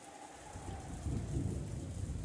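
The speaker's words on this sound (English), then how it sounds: "Just like the previous night, the rain was falling in earnest." Heavy rain falls steadily in a game scene, a dense wash of downpour with a low rumble of thunder swelling partway through, continuous and fairly close with no voices.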